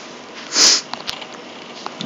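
One quick, close, breathy sniff from someone with a runny nose, loud and short against quiet background noise, followed by a few faint clicks.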